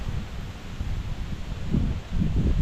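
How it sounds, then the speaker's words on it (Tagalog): Strong wind buffets the microphone with low, gusty rumbling, intensifying toward the end, with faint rustling in the background. "Ang lakas ng hangin."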